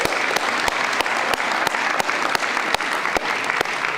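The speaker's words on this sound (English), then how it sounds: "Can everyone please join me in a huge round of applause for Kevin and the marketing team?" A large audience applauds steadily at a university showcase night, dense continuous clapping with a few sharp louder claps standing out, no voices over it.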